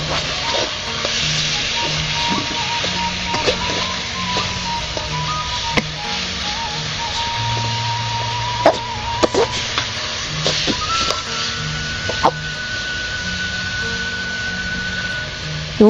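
Sliced onions hiss and sizzle in a hot pan while Japanese-style food is being cooked, with a steady frying noise and occasional sharp clicks and taps.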